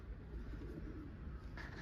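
Soft, low cooing of pigeons repeats faintly against a quiet background hum.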